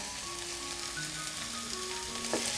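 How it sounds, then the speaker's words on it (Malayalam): Capsicum and onion sizzle in a pan, a steady close hiss of frying that runs throughout without pause. "ക്യാപ്സിക്കവും സവാളയും ചേർത്തിട്ട് ഒരു മിനിറ്റ് നമ്മൾ നന്നായിട്ടൊന്ന് വഴറ്റി കൊടുക്കണം"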